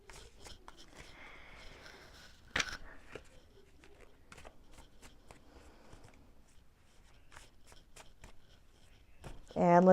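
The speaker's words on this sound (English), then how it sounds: "The cardstock actually shuffles very nicely, though." Oracle cards with slippery cardstock are shuffled in soft, quick riffles and rustles at close range, with brief clicks and a sharper snap partway through, under light talk.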